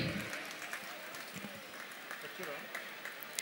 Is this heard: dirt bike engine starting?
no